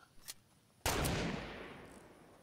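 A single sharp game gunshot from a 360 no-scope in a video game, a faint click first, then a loud crack with a ringing tail that fades over the next second.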